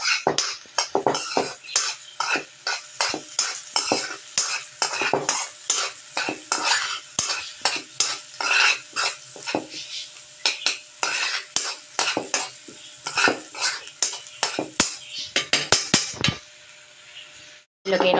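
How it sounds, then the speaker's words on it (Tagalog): Garlic and carrots sautéing in a pan with a metal utensil, giving repeated close scraping and clinking strokes against the pan in an irregular rhythm over a soft sizzle, with no talk. "Igisa natin ang bawang. Lagay po natin ang carrots."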